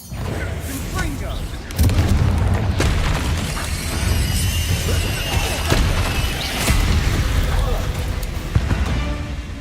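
A Confringo spell explodes in Hogwarts Legacy during a fight with spiders: a deep boom opens a stretch of heavy blasts and crashing impacts, with more bursts rumbling on under a loud, busy game soundscape.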